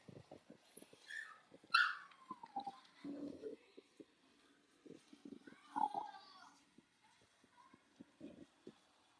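Six-week-old Cavalier puppies whimper and yip in short, high, scattered cries amid soft rustling, with people talking nearby.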